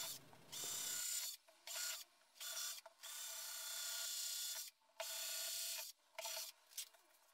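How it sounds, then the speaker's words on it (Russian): Self-tapping screws being driven to fix an amplifier into a subwoofer box, heard as a string of close, steady mechanical whirring bursts separated by short pauses, with no voices. "Вставляем усилитель и прикручиваем его на саморезы, предварительно просверлив отверстия под них."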